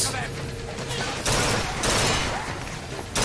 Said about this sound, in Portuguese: Quem é que está a disparar, meu? Onde é que os tiros estão a ouvir?